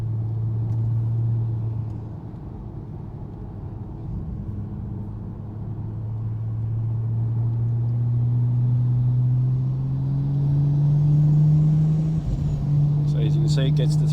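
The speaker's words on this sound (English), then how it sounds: "As you can see, it gets to 3 grand and it stops. So it's rev limited." A car on a valet tune that limits it to 3000 RPM, driven in third gear in light traffic: a steady engine drone climbs in pitch and then holds flat at the limit, loud inside the cabin, with a voice talking over it.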